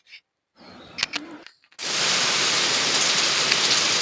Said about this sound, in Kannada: ಅಷ್ಟರಲ್ಲಿ ಮಳೆ ನಾನು ಬರ್ತೀನಿ ಅಂತ ಮಳೆ ಬಂದ್ಬಿಡೋದು